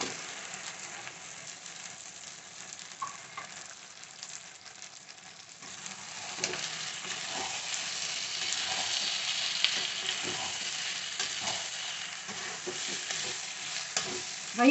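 Prawns fry in an Andhra-style curry pan with curry leaves, a loud continuous sizzle that swells as they go in, with repeated scraping stirs of a spoon against the pan.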